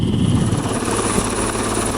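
Helicopter flying overhead during a Swiss SWISSCOY military deployment near Malishevo, a steady loud rotor thump and turbine whine held throughout without talk.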